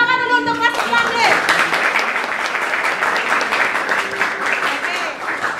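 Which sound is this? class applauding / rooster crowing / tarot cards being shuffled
class applauding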